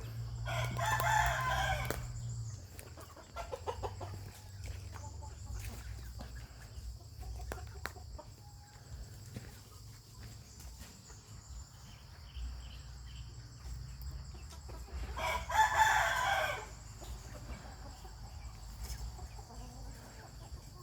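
Burmese fighting roosters crow twice, once at the start and again later, loud and fairly close, over a constant chorus of insects and occasional clucking.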